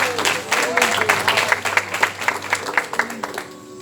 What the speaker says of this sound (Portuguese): aplauda esta palavra nessa noite